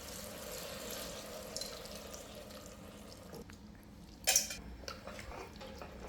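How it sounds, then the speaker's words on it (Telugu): Tamarind juice is poured into a cooking pot of millet bisi bele bath, a soft, quiet splash and slosh with light metallic clinks from the pot, then a brighter clatter near the end. "దీంట్లో చింతపులుసు పోస్తున్నాను అనమాట."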